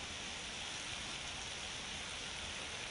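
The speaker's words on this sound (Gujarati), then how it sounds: "વરસાદ વરસ્યો હતો." Rain falls steadily in Vapi after a downpour that came with thunder, a broad, constant hiss of drops on surfaces, unbroken and alone.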